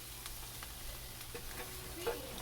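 Food sizzling in a covered pan that is opened now and then and stirred, a faint, steady frying hiss with light scraping touches, no speech.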